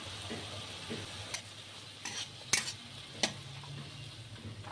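Ground cumin, turmeric, chaat masala and Kashmiri chili powder fry in oil in a pan for Bombay duck jhuri. A soft, steady sizzle is heard close up, with a few sharp scrapes as a spatula stirs.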